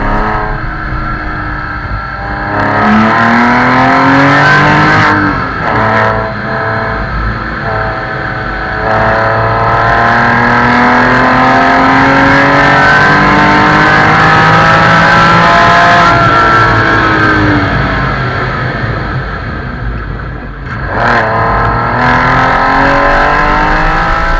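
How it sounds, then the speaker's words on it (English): A Porsche 911 996 Carrera 2 engine with a modified air intake revs hard again and again, rising and falling in pitch with a raspy intake roar, loud and close. "I really think it sounds more like a race car now than it did originally"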